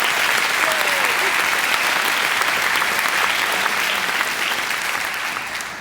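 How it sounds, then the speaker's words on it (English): Sustained audience applause at an awards-style evening, dense and loud throughout, fading slightly at the end. "Please give yourselves a round of applause."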